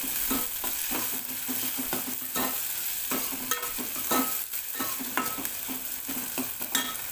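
Onion and tomato sauté in a pan while a spatula scrapes and pushes them in a quick, repeated rhythm over a busy frying sizzle, close and fairly loud.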